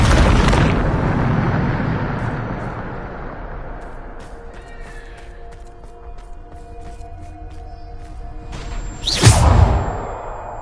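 A Bombarda explosion spell in Hogwarts Legacy: a loud burst with a long rumbling roar fades over several seconds, and later a sharp whooshing blast rises and flares before trailing off, with faint tones in between.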